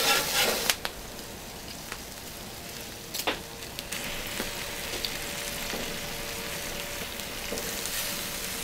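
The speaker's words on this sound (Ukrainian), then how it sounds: "Все смажимо з кожної сторони." Burger patties fry in an oiled pan on a gas grill while zucchini and bacon cook on the grate. A steady, soft sizzle crackles throughout, with a few sharper pops and spits.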